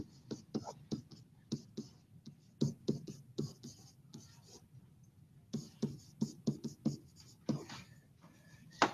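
A pen or marker writes out a math function in quick bursts of scratchy strokes and taps, close and faint, pausing briefly in the middle before another run of strokes.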